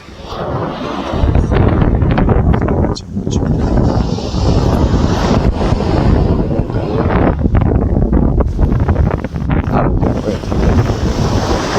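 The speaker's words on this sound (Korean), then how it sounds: "친구 파도 구경하세요." Loud, continuous winter sea surf crashes and rushes close by at Eurwangni beach, Incheon, South Korea, mixed with heavy wind buffeting the microphone.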